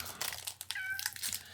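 A cat meows once in a short, clear call over faint crinkling noise from an indoor card pack opening.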